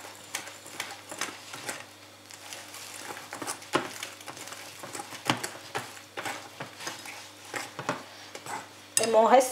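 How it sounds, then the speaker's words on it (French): Flour and milk batter for brunch stirred in a bowl, a steady run of soft scraping and clinking utensil taps with a few louder knocks, close and fairly quiet. "Je vais continuer de bien remuer."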